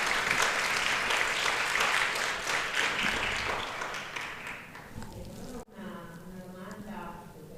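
Workshop attendees give a round of applause for remote participants connected from the UK, dense clapping for about five seconds that fades out, followed by talking.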